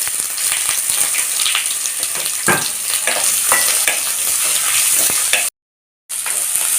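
A handful of chopped onions sizzle and crackle in a hot pan while cooking an arai keerai side dish, with occasional stirring scrapes; a brief gap of silence near the end.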